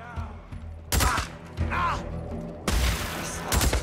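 Bursts of gunfire in the video game Days Gone, with several broadband volleys of shots and a crackling blast erupting over a low, steady game backdrop, loud and close.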